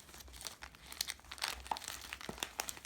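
A Hydrofilm waterproof dressing is pulled out of its crinkly plastic packet, close busy crackling and crumpling with short tearing bursts and no voices.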